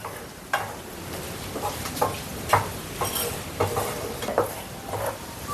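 A homemade sauce is poured over fried cauliflower in a pan for gobi manchurian, with a close, continuous sizzle and a series of sharp clinks and scrapes as it is stirred.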